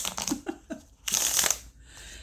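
Playing cards are shuffled up close: a few quick soft flicks, then a longer loud riffling burst, ending in a quieter rustle, with no talk over it.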